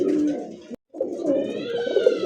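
Deshi dauka pigeons coo in close, soft repeated phrases with a brief pause between calls.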